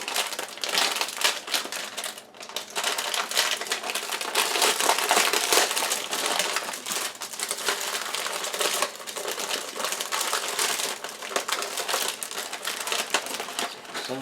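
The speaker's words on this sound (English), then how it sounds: "I would like to put the whole packet in the food processor" Food processor crushing a whole packet of Oreo cookies for a cheesecake crust, a continuous loud rattling, crunching grind with no talking.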